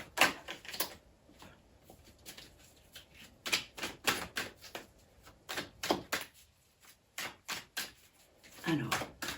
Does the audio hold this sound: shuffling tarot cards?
yes